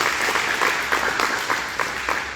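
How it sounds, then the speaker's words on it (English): A crowd at a veterans memorial service in Deer Park gives a round of applause, with sustained, even clapping from many hands that holds steady throughout at moderate volume. "Let's give Johnny a round of applause."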